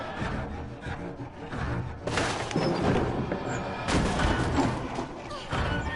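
Gunfire in the horror video game Little Nightmares 2, with loud, heavy blasts landing around two and four seconds over a dense, rumbling game soundscape of thuds and crashes.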